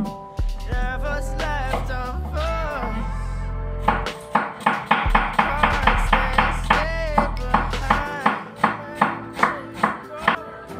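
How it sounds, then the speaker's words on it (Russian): A knife chops an onion steadily on a cutting board, rapid rhythmic thuds close up, with a brief clatter of kitchen noise partway through and no talking. "Беру одну головку репчатого лука покрупнее и нарезаю в эту массу мелким"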